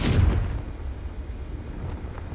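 One heavy explosive blast from the Confringo spell in a Harry Potter video game, loud at the start and then trailing off into a low, fading rumble.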